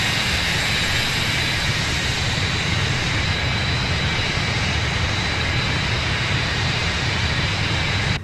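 MD80 jet engines in Microsoft Flight Simulator 2020 accelerating at 250 knots, a loud continuous broadband roar with a steady high whine, constant throughout with no speech.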